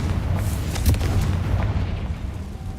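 Confringo spell blast in Hogwarts Legacy, a deep booming burst with a rumbling low end that fades over a couple of seconds.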